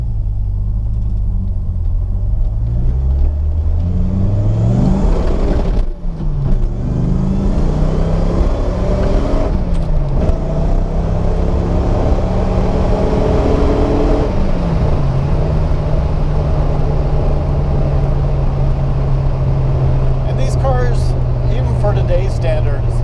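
A first-generation Dodge Viper with no traction control accelerates hard in first gear, its loud engine rising in pitch through repeated climbs and gear changes, heard from inside the car with a voice talking over it.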